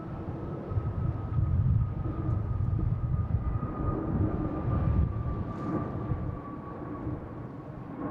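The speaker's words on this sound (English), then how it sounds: "We got Aer Lingus backing up over here" Aer Lingus airliner pushing back from a gate at Boston Logan Terminal C: a steady, loud low rumble of jet engines with a constant high whine running through it, no speech.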